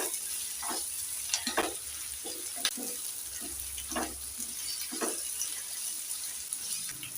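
Onions sizzle and fry in a pan for a potato masala side dish, a steady close crackle with repeated stirring scrapes and clinks at irregular intervals.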